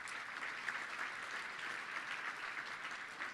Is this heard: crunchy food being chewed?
no